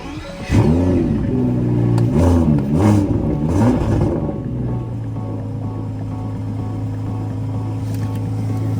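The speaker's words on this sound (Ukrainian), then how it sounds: "Заводиться як якийсь V12, а може це є V12" A bus engine, likened to a V12, cranks and catches with a few loud rising revs, then settles into a steady, even idle hum close by.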